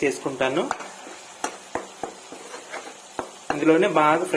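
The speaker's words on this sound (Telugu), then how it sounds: "పచ్చి వాసన పోయేంత వరకు అల్లం వెల్లుల్లి పేస్ట్ ముద్ద ఇలాగే బాగా ఫ్రై చేసుకుంటాను." Ginger garlic paste frying with chicken in a pan for Thalwan chicken, heard as steady sizzling under sharp spoon scrapes and taps against the pan, with a louder frying burst toward the end.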